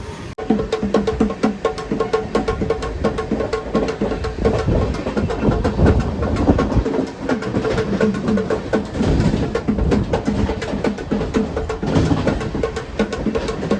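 Steady rumbling rattle of a moving passenger train just departed Kopargaon, dense rhythmic clatter of wheels on track continuing throughout at close range.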